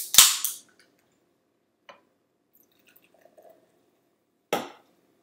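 A can of LaCroix coconut cola sparkling water cracks open with a sharp pop and brief fizz, a couple of faint clicks following, then a second short hiss burst near the end.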